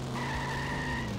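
A car driving in The Simpsons Hit & Run, with a steady engine tone and a sustained tire squeal, loud and continuous for about a second.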